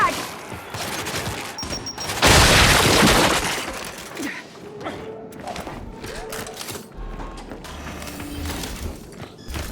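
A frag grenade blast in Gears 5 lands as a loud, broad burst of noise with debris crackle, rising early and fading over a few seconds amid combat sounds and shouting voices.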